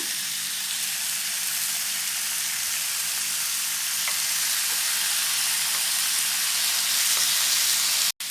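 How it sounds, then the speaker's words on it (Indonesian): Chicken pieces added to a pan of fried spice paste for chicken satay with cashew peanut sauce, giving a loud, steady sizzle that runs unbroken and then cuts off abruptly at the end. "Nah, ini bumbunya sudah wangi, kita masukkan ayamnya."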